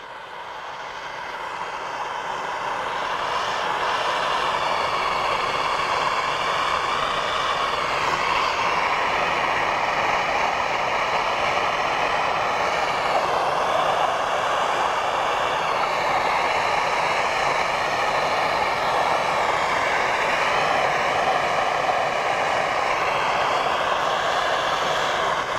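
A MAP gas torch flame heats a suspension bushing, producing a loud, steady roaring hiss that builds over the first few seconds and then holds constant at close range with no talk.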